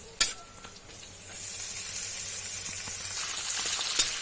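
Cashews and raisins frying in hot oil for fried rice, a steady bright sizzle with faint crackles that swells after an initial clatter and holds evenly, close and moderately loud with no talking.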